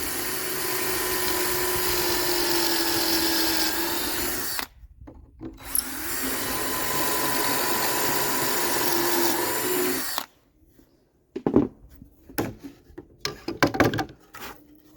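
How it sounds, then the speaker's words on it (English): An electric drill whines steadily as it bores a hole through clamped wood guided by a jig while building Dutch barn doors, two long loud runs separated by a brief pause, then some clattering handling noises. "Grab my drill, then you just use the guide to drill your hole."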